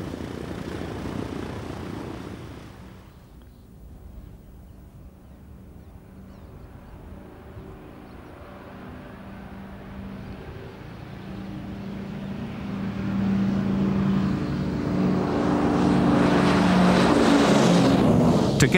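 Propeller engines of a Convair airliner on a bush flight bound for La Paz, a steady droning hum that dips, then builds to a louder, fuller roar toward the end, with no talking.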